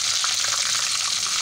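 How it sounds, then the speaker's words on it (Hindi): Eggplant frying in hot oil in a kadai over a low flame, giving a dense, continuous close sizzle with a bubbling crackle that stays even throughout. "अब हम इसमें ऐड करेंगे एक एक एग प्लांट और इसको फ्राई करेंगे।"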